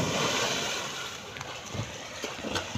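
Floodwater rushing past houses makes a continuous broadband roar mixed with wind buffeting on the microphone, steady and close with a few faint splashes.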